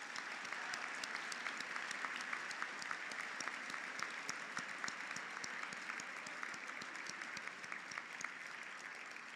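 A dense, even roar of applause from a large audience at a high school senior awards convocation honoring the class of 2025, heard at a distance and holding steady with no talk.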